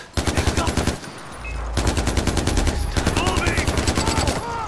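Rapid automatic gunfire in a graybox level of a shooter game, loud, evenly spaced shots in long bursts with a brief pause between them, over a low rumble, while a voice shouts a short callout.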